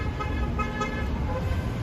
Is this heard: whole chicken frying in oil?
no